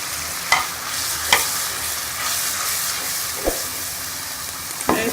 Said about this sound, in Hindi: इसको अच्छी तरह से भून लेंगे।